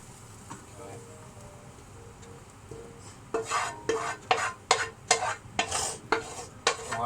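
Onions and chilies frying for spicy beef chow mein, a quiet sizzle at first and then a run of sharp, rhythmic stirring scrapes in the pan.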